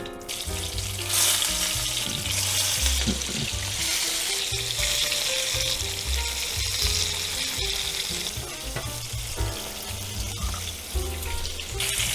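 Meatballs sizzle and fry as they brown in a crowded frying pan, a dense, continuous crackling sizzle close by with occasional clinks and scrapes, no talking over it.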